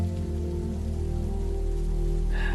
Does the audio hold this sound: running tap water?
no